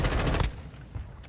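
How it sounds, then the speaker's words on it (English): Heavy gunfire in Warzone 2.0, tied to a sniper, bursts loud and dense for about half a second, then drops away to fainter scattered noise with a small distant thump. "Someone's sniping at me."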